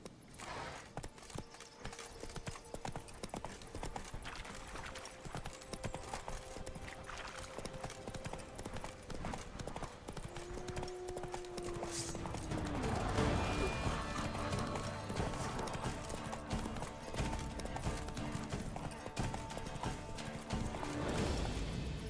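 Horse hoofbeats from The Witcher 3, a steady clip-clop of a mount at speed running under ambient game music, with a brief whinny and some talk over it.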